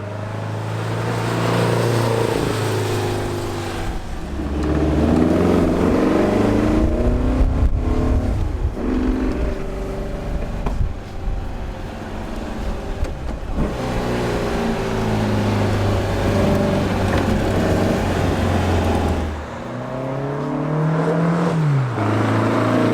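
A 1956 Porsche 550 Spyder, around 160 to 170 horsepower, drives past the listener with its engine revving loudly and steadily, the pitch rising and falling through gear changes and downshifts, with no talking over it.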